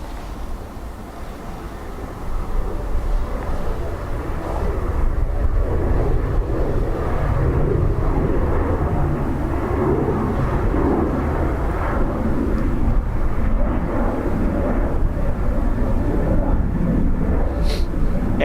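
An ATR turboprop arriving at Dublin Airport from Edinburgh on a blustery day, its engine roar swelling after a couple of seconds and holding steady and loud as the plane passes.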